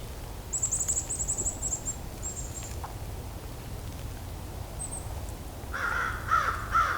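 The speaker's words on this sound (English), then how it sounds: "Crows here are pretty talkative today." Crows cawing outdoors during a winter bird count, a run of raspy calls early on and another closer burst near the end over steady background noise.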